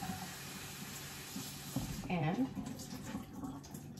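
Tap water runs over spinach greens rinsed in a kitchen sink, a steady soft hiss of flowing water beneath a person talking nearby.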